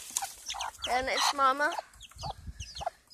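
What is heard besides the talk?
baby chicks and rooster clucking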